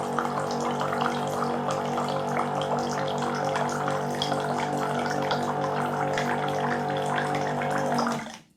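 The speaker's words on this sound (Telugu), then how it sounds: "వాటర్ ప్రెషర్ అనేది కరెక్ట్గానే వస్తుంది మనకి పైప్. సో ఫోర్స్గానే వస్తుంది చూడండి." A portable automatic water dispenser pumps water through its pipe with a steady, close hum and rushing flow. The sound holds even until it cuts off abruptly near the end.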